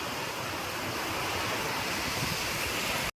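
Loud, steady rush of a stream flooded by a cloudburst, fast-flowing floodwater in a continuous broadband roar with no voices, cutting off abruptly at the end.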